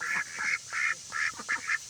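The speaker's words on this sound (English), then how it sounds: "She's in here with her duck friends." Ducks quack in a series of short nasal calls, several overlapping, fairly close but not loud, over a steady background hiss.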